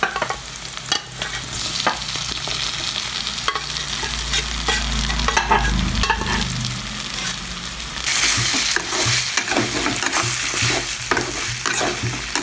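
Continuous loud frying sizzle with scraping and clattering as pressure-cooked beef is stirred and tossed in a pan, growing brighter and hissier toward the end.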